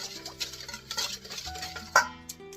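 A spoon scrapes and clinks against a bowl while a bean salad is mixed, producing a quick run of soft irregular clatters and taps with one sharper knock near the end, close and alone.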